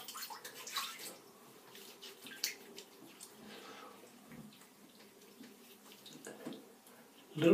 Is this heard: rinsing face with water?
yes